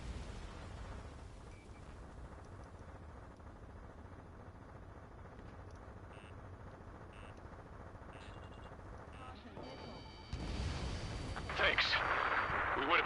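Bombs dropped from an aircraft in the Ace Combat video game rumble as a steady, heavy wash of low booming under an engine drone, rising into louder, harsher explosive blasts toward the end.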